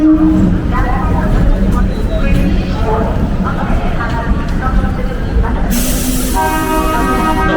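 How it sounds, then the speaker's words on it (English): A local train in Delhi rumbles and clatters along the tracks, with a brief horn-like tone near the end; loud and close, as heard from on board. "This looks like a local train."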